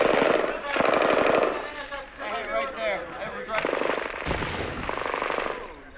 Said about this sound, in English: That's mortar. That did not sound good.